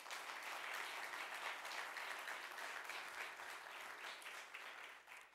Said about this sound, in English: I want to give a special round of applause for Ann Scaglione and Finance Department and